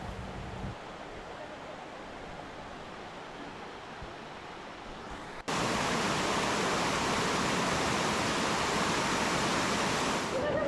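Lower Wallace Falls in Wallace Falls State Park, Washington, pouring in a steady broadband roar that jumps sharply louder midway as the water comes closer, constant and unbroken with no talk.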